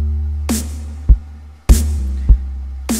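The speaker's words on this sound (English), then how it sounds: "So what you're hearing is the drum sample." Drum sample looping on a 1010music BlackBox sampler, with sharp kick-and-snare hits in a steady pattern, a loud low thump and bright crack repeating about every second, heard alone.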